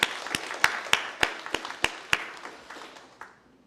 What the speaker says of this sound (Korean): 박수합시다.